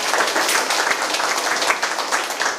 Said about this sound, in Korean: 박수 한번 치시고.